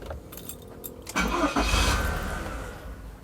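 Nissan Serena C24 with a QR engine cranking but failing to start; a faint jingle of keys leads into a loud, close starter-motor churn that continues steadily for about two seconds without catching.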